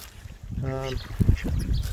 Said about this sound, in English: My God, I love feeding the ducks